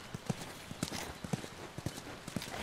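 Horse hooves clip-clop at a walk in The Last of Us video game, a steady rhythm of soft, faint hoofbeats on the ground with no voices over them.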